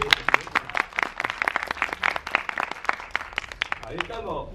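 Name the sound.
audience applause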